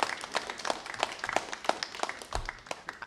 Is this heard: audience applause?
yes